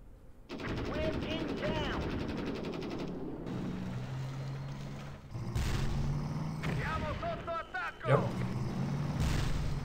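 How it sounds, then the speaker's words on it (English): Artillery and machine-gun fire from the World War II strategy game Battle Academy, Desert Rats against Afrika Korps, booms and rattles loudly throughout, with voices overlapping the battle noise and a sharp blast near the end. "We're under heavy fire."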